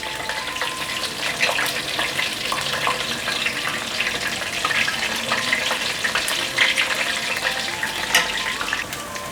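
Battered taro pieces deep-frying in hot oil in a wok, a dense, steady crackling sizzle heard close up and without talk.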